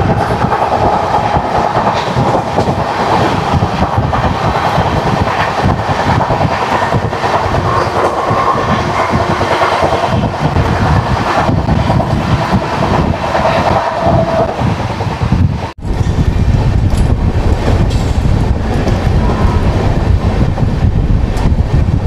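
The 15910 down Avadh Assam Express, met on the way to Moradabad, thunders past close by with a loud, continuous rush and rolling wheel clatter throughout, broken only by a brief dip in sound before the roar resumes.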